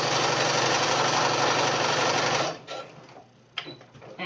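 Sewing machine stitching a fabric face mask flat, running as a loud continuous whirring buzz for over two seconds before stopping abruptly, followed by quieter handling clicks.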